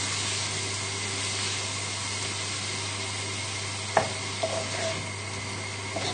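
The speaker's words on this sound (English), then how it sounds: "Just gently stir in the mascarpone." A wooden spoon works mascarpone into a hot pasta sauce for butternut squash pappardelle, a constant soft sizzle and stir over a low hum, with a sharp tap against the pan partway through.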